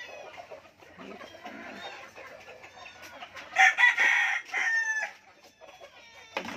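Chickens cluck steadily throughout, with a loud rooster crow bursting out near the middle and a second crow following shortly after.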